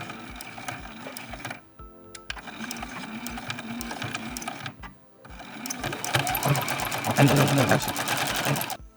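A sewing machine stitches fabric for a book cover in rapid, rhythmic bursts separated by short pauses, louder and faster in the last run, with a person talking over it.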